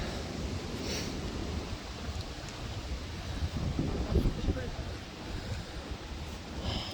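Breezy outdoor wind from the west on a hillside near a cedar tree in January, rushing and buffeting the microphone in steady gusts, with a stronger surge midway, heard alone.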